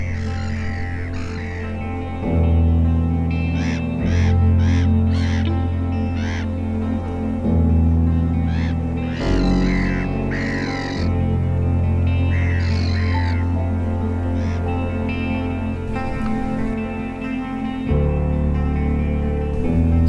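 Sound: gulls trying to steal a kite's food at Lake Constance

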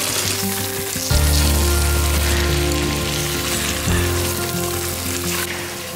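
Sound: chicken pieces frying in spice paste with coconut paste

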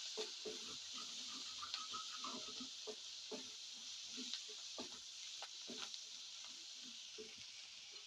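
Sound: onions frying in a pan

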